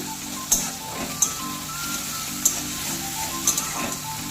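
Onion, green chillies and tomato with a pinch of salt sizzle steadily in a pan, with a spatula scraping and clicking against it about four times at an unhurried pace.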